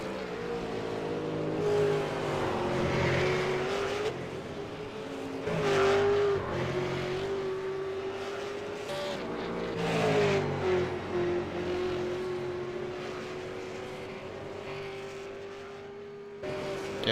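A V8 Supercar race car laps the Road Atlanta circuit, its engine droning steadily with repeated revving surges and gear changes that rise and fall, heard at moderate distance without talk.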